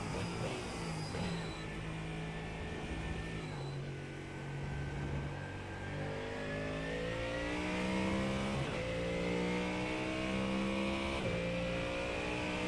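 A race car on the Le Mans circuit brakes hard for a Mulsanne straight chicane, its loud engine note dropping through downshifts and then climbing again as it accelerates out, steady and close throughout.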